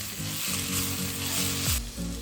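Chopped tomatoes sauté in hot oil for a sundakkai (turkey berry) thokku, giving a steady, close sizzle with soft stirring scrapes and no voices.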